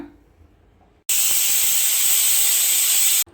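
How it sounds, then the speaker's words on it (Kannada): A pressure cooker on a stove, cooking drumstick biryani, lets out one loud, steady, high whistling hiss of escaping steam for about two seconds, close by and with no talking. "ಕ್ಲೋಸ್ ಮಾಡಿಕೊಂಡು 1-2 ವಿಸಿಲ್ ಬಿಟ್ಕೊಳ್ಳೋಣ"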